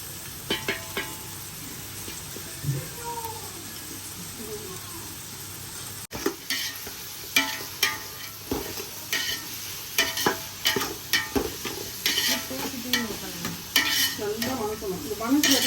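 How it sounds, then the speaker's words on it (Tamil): Onions frying in oil in a pan for mutton biryani. A continuous sizzle runs under frequent clattering scrapes and taps of a spoon stirring, growing busier in the second half. The sound is close, with a faint voice early on. "வெங்காயம் நல்லா வணக்கணும்."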